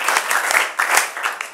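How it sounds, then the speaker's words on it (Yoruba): An audience claps for themselves in a brief burst of lively applause, many hands at close range in quick uneven bursts. "ẹ pàtẹ́wọ́ fúnra yín."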